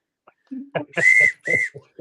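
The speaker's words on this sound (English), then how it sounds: "I've been blowing this rape whistle" Two sustained shrill blasts from a handheld safety whistle, close and loud, following a couple of brief vocal sounds.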